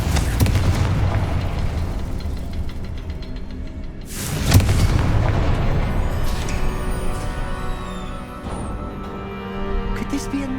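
A Confringo fire spell in the Hogwarts Legacy game bursts with a sharp boom around the middle of a dense, steady bed of game sound, then fades back into the rumbling ambience.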